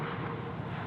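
An Airbus A330 airliner at Sydney Airport produces a steady, broad jet roar that stays level throughout the short moment, with no voices.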